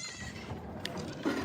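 A herd of goats entering a farm barn, with one short, fairly close bleat rising over a busy background of shuffling and low barn noise.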